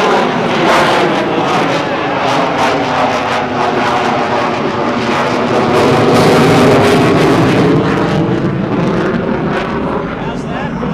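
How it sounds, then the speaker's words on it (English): An F/A-18F Super Hornet jet roars loudly and continuously overhead during an airshow demonstration, a broad, sustained engine rumble with wind buffeting and crowd-area noise throughout. "Now the Super Hornet pitches up."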